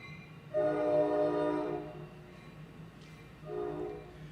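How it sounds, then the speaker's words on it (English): A passing train sounds its horn in two long, loud harmonic blasts, with a steady low rumble of the rail cars underneath and no talking. "I'll let this train go by"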